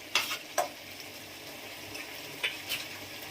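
A spoonful of ghee sizzles softly in a pan of banana flower (mocha) curry, with a low steady fry and a few light clicks of a spoon stirring.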